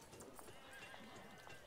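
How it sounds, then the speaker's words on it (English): Riding horses clip-clop steadily with whinnying neighs mixed in, a faint, continuous backdrop with no pauses. "Horses."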